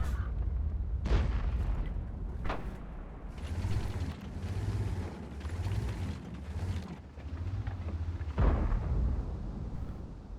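Tank cannon fire in World of Tanks on the Steppes map, with a T30 in play: a few heavy booming shots and mechanical clanks over a rumbling engine drone, with faint talk in places.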